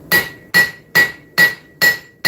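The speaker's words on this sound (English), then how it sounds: "So I need to come in here with the cross peen" A cross peen hammer strikes a knife blade in six evenly spaced, loud ringing blows, each a sharp metallic clang with a brief ring that fades before the next strike.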